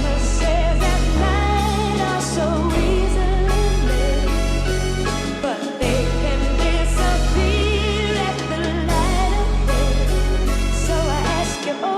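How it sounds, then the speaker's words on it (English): An analog lap bass plays deep sustained notes that follow a chopped drum sample, with the bass shifting pitch every couple of seconds under a busy, bright loop, loud and continuous with no voices. "I just use this analog lap bass,"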